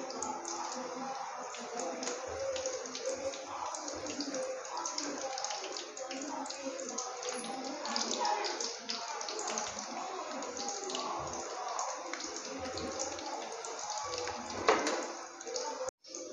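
Stuffed karela sizzle and crackle as they fry in hot oil, a steady hiss dotted with sharp pops and spits, fairly close and moderately loud.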